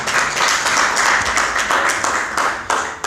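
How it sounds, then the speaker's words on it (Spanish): Applause from a church congregation during a sermon on prophecy, steady dense clapping held at a loud level for the whole stretch with no voices over it. "Denle un fuerte aplauso al Señor."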